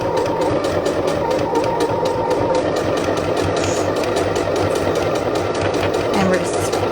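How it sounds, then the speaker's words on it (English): A sewing machine stitching fabric runs at a steady, rapid rhythm, loud and close throughout, with a low motor hum underneath. "we're just going to start sewing"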